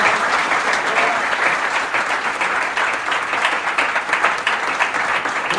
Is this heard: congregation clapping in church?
yes